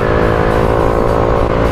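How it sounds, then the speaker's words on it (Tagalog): A Mio i 125 motor scooter fitted with 9-gram flyballs runs at steady speed, its engine droning loud and close with a constant buzzing tone and no talk. "sa takbo ng ating motor ngayon"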